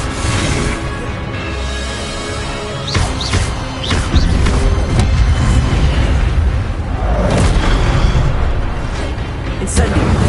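An Incendio fire spell is cast several times in Hogwarts Legacy, with booming, bursting whooshes and crackling flames rising over a steady rumbling game backdrop.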